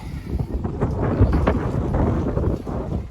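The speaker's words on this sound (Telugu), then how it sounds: "గాలి వస్తుంది" Strong wind roars and buffets the microphone in a continuous, loud rush with gusting swells.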